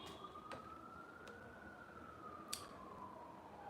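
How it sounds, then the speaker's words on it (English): An emergency vehicle siren wails steadily outside, faint and distant, its tone slowly rising and falling with a few brief clicks over it and no talk. "I cannot believe the siren is still on"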